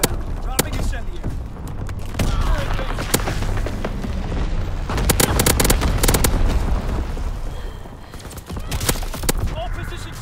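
Incendiary bombs fall from a low-altitude bomber in a video game, booming explosions rolling over continuous loud battle noise, with sharp impacts and rumbling blasts, while a voice talks over parts of it.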